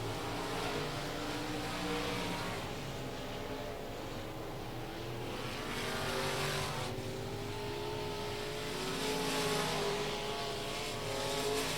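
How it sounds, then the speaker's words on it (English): Limited modified race cars circling a dirt oval at night, a steady engine roar rising and falling as the field passes, fairly distant with crowd-like wash behind. "The rest of the field racing under the checkered flag tonight"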